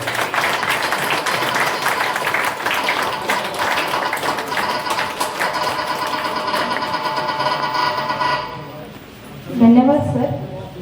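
Dense, steady applause from a gathered audience at a retirement farewell ceremony for Pandurang Patil sir carries on for about eight seconds before easing off, and a voice then speaks over the fading sound.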